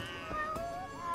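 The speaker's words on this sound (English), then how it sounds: "Aw, kitties." A cat meows briefly in the video game Lost Judgment, a single drawn-out mew at moderate level over a faint background.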